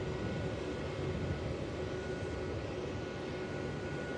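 A Jetstar airliner at Melbourne Airport gives off a steady, loud broadband roar that holds even and unbroken throughout, with no voices.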